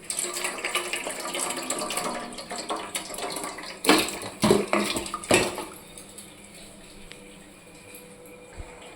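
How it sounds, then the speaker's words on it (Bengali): Goat mutton tipped into a pot of heated water, with a burst of metallic clatter and splashing in the middle against a background hiss, then quieter settling; no voices. "এর মধ্যে যে মাংসটা আমরা ঢেলে নেবো।"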